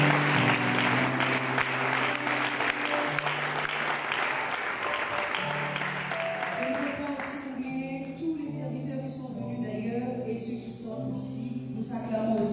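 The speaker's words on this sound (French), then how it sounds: "Nous acclamons aussi pour eux" Applause and cheering from a congregation at a church service, a dense wash of clapping over sustained music tones that thins after about six seconds while the music carries on.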